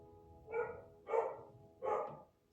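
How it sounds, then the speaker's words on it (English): Dogs indoors barking three times in a slow, evenly spaced series, somewhat distant and moderately loud, with no talk over them. "Excuse my dogs."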